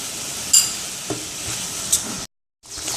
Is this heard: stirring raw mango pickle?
yes